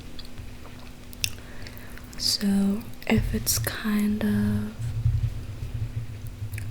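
Soft, subtle gum chewing sits close and quiet, with gentle wet mouth sounds under a whispered voice that speaks throughout.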